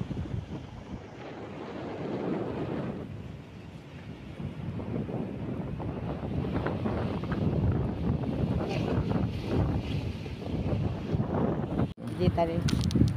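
Sea wind buffets the microphone along the Lingayen baywalk, a continuous low rumbling gust with a faint wash of waves underneath, steady and fairly loud throughout, with no talking.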